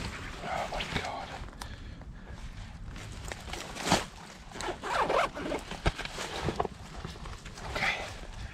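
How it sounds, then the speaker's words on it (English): A vest zipper is pulled up outdoors at a campsite, giving a few short, close rasping zips among scattered rustles and shuffling. "Just gonna zipper up my vest for a second."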